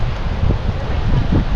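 Strong gusting wind on a Florida beach at Pass-A-Grille ahead of a storm, a loud low rumble buffeting close by with no clear talk.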